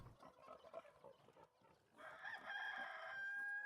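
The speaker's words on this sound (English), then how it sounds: "Chickens. Chickens on fast forward." Chickens in the city-building game Ostriv, shown on fast forward, cluck faintly and then a rooster crows in a long, sustained call, with ambient game sounds underneath.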